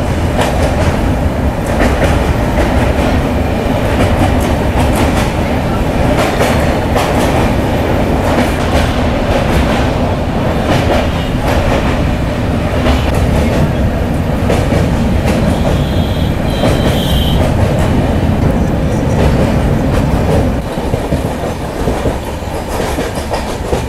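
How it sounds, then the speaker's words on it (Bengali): A moving passenger train rolls steadily past the Dakshineswar temple, a continuous loud rumble of wheels on rails with rhythmic clickety-clack and a faint brief squeal, no voices. "আমাদের ট্রেন এখন পার করছে দক্ষিণেশ্বর মন্দির"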